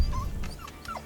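Pudelpointer puppy whimpering softly nearby, a few short high whines and yips over low rustling background noise, with no one talking.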